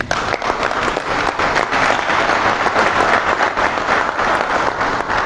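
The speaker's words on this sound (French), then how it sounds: "que je voudrais qu'on applaudisse." An audience at a PDCI-RDA party press conference in Côte d'Ivoire applauds loudly and continuously, a dense wash of many hands clapping close by with a steady level throughout and no speech.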